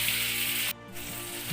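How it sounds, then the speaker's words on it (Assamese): Pointed gourd (potol) fries in a pan, giving a steady sizzling hiss that briefly drops out partway through before resuming, with a low mechanical hum underneath. "এয়া যে আৱাজ শুনি আছে ইয়াৰ ছাইডত পটল ভাজি আছে সেইকাৰণে আৱাজ উঠি আছে"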